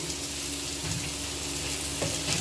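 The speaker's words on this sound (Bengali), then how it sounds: "আমি নুন দিয়ে কিছুটা ভেজে নেব কিছুক্ষণ ধরে" Boiled, drained pieces of homegrown elephant foot yam fry with salt in hot oil, giving a soft, continuous sizzle with occasional stirring scrapes, fairly quiet and unbroken.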